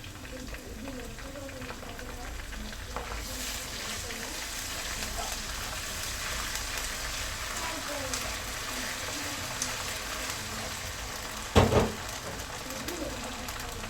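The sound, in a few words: fried onion with ginger and garlic sizzling in oil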